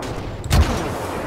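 Single loud shot from the DLT gun in the game Ravenfield, a sharp close blast with a brief boom that decays quickly into steady background noise.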